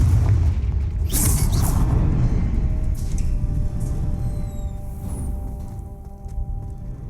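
A Confringo fire spell explodes in the Hogwarts Legacy video game, a deep rumbling boom that fills the clip with sustained low roar and a few whooshing, sparkling accents, loud and continuous throughout.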